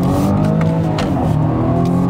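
A 2020 BMW M135i engine pulls hard in second gear from inside the cabin, a loud, steady rising drone with harmonic engine tones throughout and no talking.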